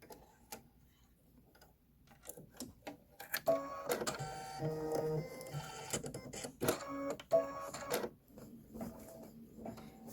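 An embroidery machine stitches two eyelets on a Kimberbell bench pillow design, with quick mechanical ticks and clattering bursts in irregular runs, close and quiet.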